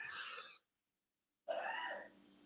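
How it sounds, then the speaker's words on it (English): A single close, loud cough in a casual podcast conversation, broken by a brief silence and followed by another rough burst. "Sorry, I coughed."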